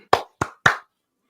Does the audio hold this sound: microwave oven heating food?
no